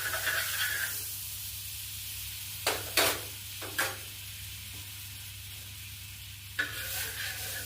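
Half a spoon of butter sizzling in a hot kadai with papaya, a steady, soft frying hiss broken by a few brief stirring scrapes.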